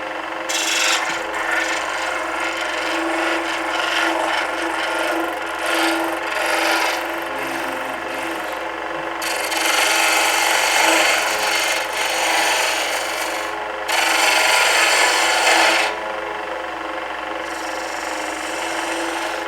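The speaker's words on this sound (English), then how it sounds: "now I want to kind of just angle this a little bit so I can sort of smooth it down a little bit, just on the edges" A wooden acorn ornament spins on a lathe while a carbide tool smooths its edges, a steady close shaving hiss that swells louder in several passes with brief lighter gaps.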